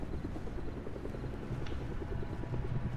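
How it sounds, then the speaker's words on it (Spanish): A helicopter in the video game Fortnite gives a continuous whirring rotor drone with a fast rhythmic thump, close and steady throughout, with no talk over it. "Hay un helicóptero aquí abajo, eh."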